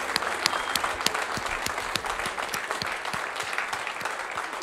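A church congregation claps steadily during a worship service, a dense, lively round of applause filling the room with scattered crowd noise beneath it.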